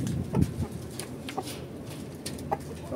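Pet birds cluck in short, soft, scattered calls, a few sharper notes breaking through, fairly close but quiet, with no voices.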